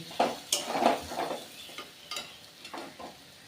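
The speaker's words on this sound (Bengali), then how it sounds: "মশলার সঙ্গে মাছ খুব ভালো করে কষানো হয়ে গেছে" Dried loitta fish being sautéed with spices in a pan, close, quiet sizzling with repeated scraping stirs and light clinks of a utensil against the pan, and no voices.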